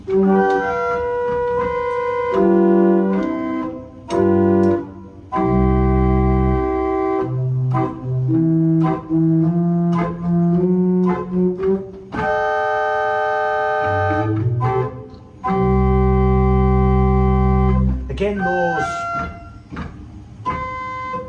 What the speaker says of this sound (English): is an 8-foot open diapason